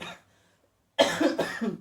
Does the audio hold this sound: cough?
yes